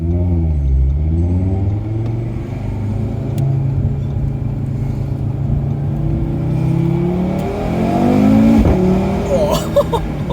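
An Audi RS3 engine revs and accelerates loudly, pitch climbing and dropping through several gear changes, with people talking over the rumble inside the cabin.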